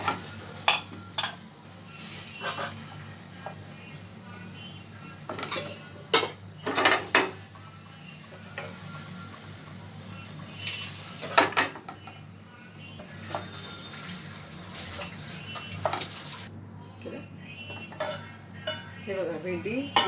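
Okra (bhindi) stir-frying in a pan, with soft sizzling under scattered scrapes and clinks of a spatula against metal, some sharp knocks standing out, close and fairly quiet.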